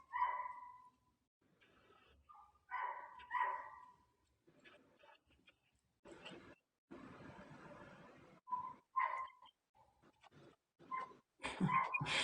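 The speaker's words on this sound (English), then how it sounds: "that dog outside my window is going nuts" A dog outside a window barks in scattered bursts, with yips, whimpers and panting between them, at moderate distance and fairly quiet overall.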